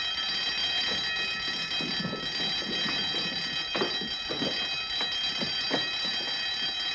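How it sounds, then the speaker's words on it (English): An alarm rings continuously in a 1952 espionage film scene, a sustained high electric ringing tone held throughout, with some scattered clattering noises beneath it and no speech. "Turn off the alarm."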